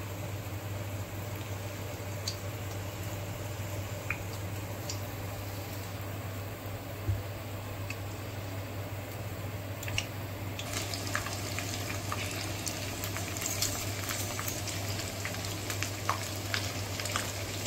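Prawn pakoras frying in oil, a soft continuous sizzle with faint crackles that grows slightly busier toward the end, under a low steady hum, with no one talking.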